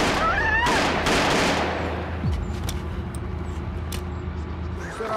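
Gunfire from a crime melodrama scene: a loud burst of shots and crackling blasts at the start, followed by a lingering rumbling tail with scattered sharper cracks.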